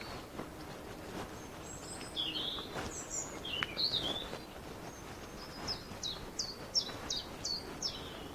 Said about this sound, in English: Listen to the birds singing.